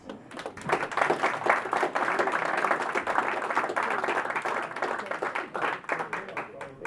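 An audience at a Rotary Club presentation applauds steadily for several seconds, a dense wash of many hands clapping that tapers slightly toward the end.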